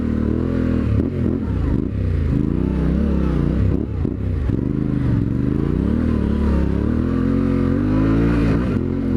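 A Yamaha Tenere adventure motorcycle on Dunlop D908RR rally raid tires climbs a dirt hill, its engine droning loud and close with steady pitch rises and falls as the throttle works, under wind and clattering gravel.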